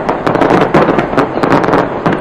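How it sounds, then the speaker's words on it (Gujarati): New Year fireworks bursting over the Auckland Sky Tower, a dense, loud barrage of overlapping cracks and pops in rapid irregular succession, heard from a distance with crowd ambience underneath. "આકાશ રંગબેરંગી ફટાકડાથી ઝગમગી ઉઠ્યું"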